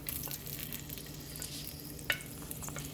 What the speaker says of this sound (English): So I am going to go ahead and first put the onions